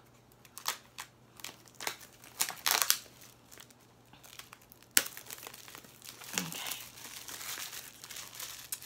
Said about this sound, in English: Off comes the paper.